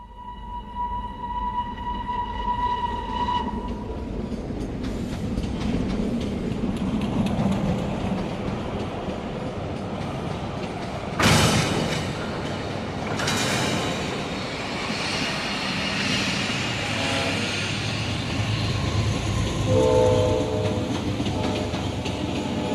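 A train runs on rails as a radio drama sound effect, a steady loud rumble and clatter lasting throughout with a few sharper bursts midway, and no voices.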